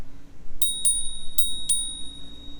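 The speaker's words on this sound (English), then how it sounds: "And we've got this hidden bell." A hidden bell built into a GOexpress e-bike rings four times, each a bright, clear ding with short gaps between them, close and isolated over a quiet low hum.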